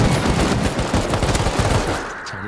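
Rapid gunfire in the survival game Rust: loud, dense bursts of shots crackling across the whole clip, with no talk, fading slightly near the end.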